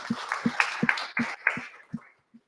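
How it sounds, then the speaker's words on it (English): A small audience gives a short round of applause, about seven distinct sharp claps in an even rhythm, close and fairly loud, ending in a final faint clap. "So can we give them a round of applause?"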